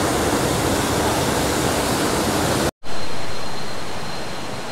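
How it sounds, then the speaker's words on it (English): Water at Pala-U waterfall in Hua Hin rushes in a loud, constant roar that cuts off briefly and then returns, slightly softer and gradually fading. "So that's it from the U Waterfalls here in Hua Hin"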